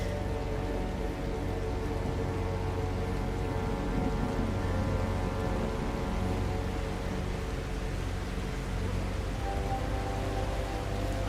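Steady rain falls in the video game The Last Caretaker, a dense, even hiss with a constant low rumble beneath it, unbroken and fairly loud throughout, with no talking.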